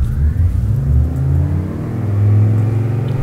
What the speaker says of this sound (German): Wir geben Vollschub.